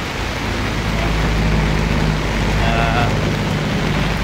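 Steady, dense rain hisses continuously on surfaces nearby, loud and unbroken throughout.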